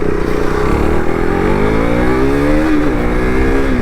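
A Kawasaki ZX6R sport bike engine revs loudly and close, its pitch climbing steadily and then dipping briefly before rising again.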